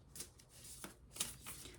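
Medicine woman tarot cards being shuffled and pulled from the deck, giving soft close riffling and sliding flutters in several quick bursts, quiet and unaccompanied by speech.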